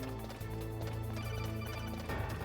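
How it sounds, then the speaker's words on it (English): A codec call rings in the Metal Gear Solid video game, a steady electronic tone repeating over continuous game music for the whole stretch. "Another phone call."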